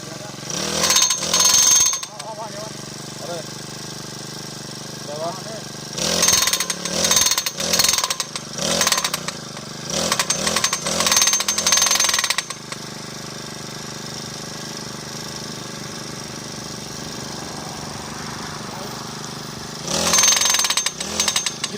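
Loud, heavy mechanical pounding from a machine driving fence posts about 70-85 cm into the ground comes in bursts with pauses between, over a constant engine drone; voices are faintly audible in between.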